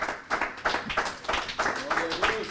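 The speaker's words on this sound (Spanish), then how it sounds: "Si tiene gozo, dele una ofrenda de palmas al Señor." A church congregation claps in a lively rhythmic beat as an offering of praise, with steady repeated claps throughout and voices under them.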